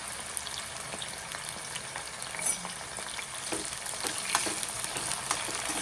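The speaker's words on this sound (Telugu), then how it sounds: "గోల్డెన్ బ్రౌన్ కలర్ వచ్చేంత వరకు వేయించుకోవాలి" Bitter gourd pieces fry in oil until golden brown, a steady, moderately loud close sizzle with scattered crackles and stirring taps and no speech.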